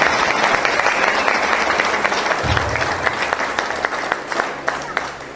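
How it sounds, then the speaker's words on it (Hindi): An audience at a motivational seminar breaks into sustained, loud applause, dense clapping that holds steady and gradually thins toward the end. "जोरदार तालियां बजाइए साहब"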